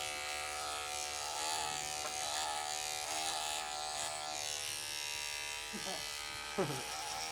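Electric hair clipper buzzes steadily and close while shaving a head bald during a home haircut, its humming drone running throughout with a few brief voices over it.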